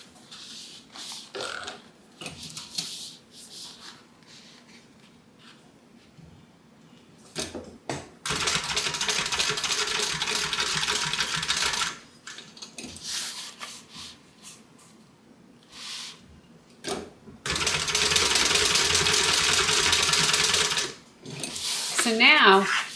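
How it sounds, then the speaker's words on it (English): A sewing machine stitches strap connectors on a tote bag in two long bursts of rapid mechanical whirring, with shorter start-stop runs and handling sounds between them, up close and clear. "we're going to stitch right on these strap connectors"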